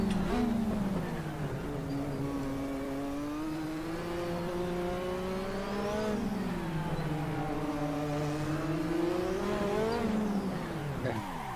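A 1980s Lotus 98T Formula 1 car's engine screaming at high revs around the Nordschleife in a racing game, pitch sweeping up through gears and dipping on lifts, loud and continuous with brief tire noise.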